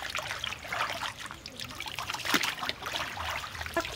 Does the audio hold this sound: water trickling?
yes